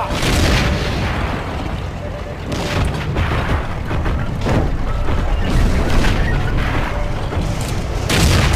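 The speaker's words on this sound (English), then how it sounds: "Watch out, I'm throwing grenades." Grenade explosions in the shooter game Heroes and Generals: loud, heavy booms and rumbling blasts fill the scene continuously, mixed with players talking.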